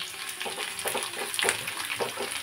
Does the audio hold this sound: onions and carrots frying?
yes